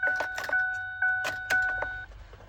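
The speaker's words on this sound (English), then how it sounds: "I just hooked up the batteries and I hear a little bit of beeping in there." A series of steady electronic beeps, three longer tones in a row, from the cab electronics of a Ford 6.4 Powerstroke truck just after the batteries are connected, alongside sharp clicking and rattling sounds nearby.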